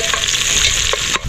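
Garlic and onion fry in a hot pan with a steady, loud sizzle, while a spoon scrapes and stirs in short strokes. No one speaks.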